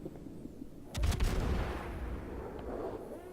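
Ship guns fire in the naval video game World of Warships, a heavy boom arriving about a second in and rolling into a long, low rumble that fades slowly under steady background engine and sea noise.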